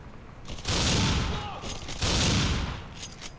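Two loud, booming gunshots ring out in a video game, each followed by a brief rolling tail over steady background noise.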